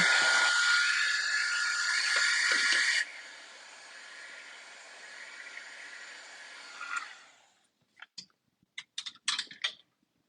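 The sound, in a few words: heat gun drying a craft tag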